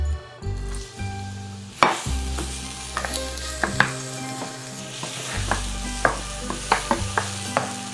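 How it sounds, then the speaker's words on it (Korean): Onions stir-fried in a spoonful of oil in a hot pan, with a bright sizzle under repeated scraping strokes of a utensil, steady and close, no voices. "양파를 넣어서 양파가 투명해질 때까지 볶아주도록 하겠습니다"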